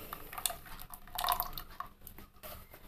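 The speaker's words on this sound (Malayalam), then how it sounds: "അതിലേക്ക് നമുക്കിത് ഒഴിച്ചു കൊടുക്കാം" Pumpkin soup is poured into a pressure cooker on a home stove, a faint wet pouring with soft drips and light clinks of metal, quiet and close.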